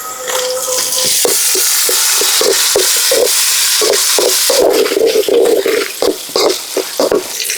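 Tomatoes, ginger, garlic, green chillies and curry leaves sautéing in a pan for crab masala, a loud steady sizzle broken by repeated scraping stirs of a spoon, with no talking.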